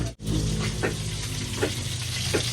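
Native field frogs frying in hot oil give a steady, close sizzle that fills the clip, with a few brief stirring clatters and one short dip near the start.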